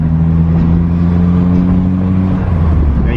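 A 1985 VW Scirocco Mk2 drives along, its engine a steady loud droning hum with a strong low tone and road noise, heard from inside the cabin without any talking.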